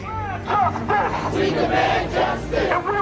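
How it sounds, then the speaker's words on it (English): An angry crowd shouts in the streets during a night of protest, a dense, loud wash of many raised voices with rising and falling yells close by. "Angry crowd tonight on the streets"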